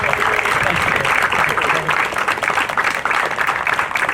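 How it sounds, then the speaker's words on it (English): Audience at a Patriot Day event applauds a chief in a dense, steady wash of clapping that holds for the whole stretch, with some voices mixed in. "how about a round of applause for Chief Greg DeWitt?"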